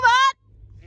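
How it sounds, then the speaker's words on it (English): A single short, nasal sheep bleat rings out close by on a farm as sheep are brought in for scanning, then gives way to quiet low rumble. "So we're bringing the sheep in for scanning."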